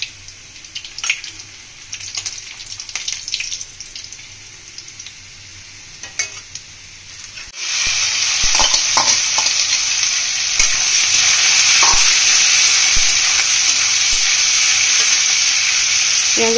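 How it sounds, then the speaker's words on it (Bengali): Whole spices, bay leaf, cardamom, cinnamon and cloves, are stirred and fried in hot oil for chana dal pulao. A softer sizzle breaks into a loud, steady, close hiss partway through. "প্রথমে গোটা গরম মশলা ফোড়নে যাবে, তেজপাতা, এলাচ, দারচিনি, লবঙ্গ"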